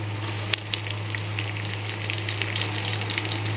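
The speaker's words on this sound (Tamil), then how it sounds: "எண்ணெய் சூடு ஏறினதும் கருவேப்பிலை கொஞ்சம் போட்டுக்கலாம்" Curry leaves dropped into hot oil crackle and sizzle steadily in a pan, a loud, continuous hiss dotted with small pops, with no voices.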